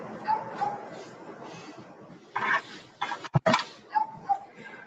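Several dogs in a house whimper and give short yips and a few barks, a scattered run of high whines and sharp calls at close range, with brief rustling in between.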